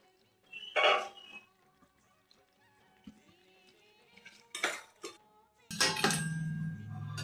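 Tomatoes being mixed in a pan, with a few clinking, scraping spoon-on-metal stirs and sizzling, quiet and intermittent.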